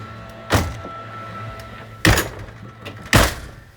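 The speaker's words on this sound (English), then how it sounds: "I got to close this door so that we can hear." A door at a campground is pushed shut, three separate heavy thunks spread over a few seconds against a steady hum of an outdoor blower, with no talk.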